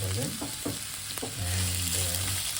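Green chili, onion and curry leaves sizzle in hot oil while being tempered, a loud steady frying hiss broken by a few scraping stirs, close up with no talk.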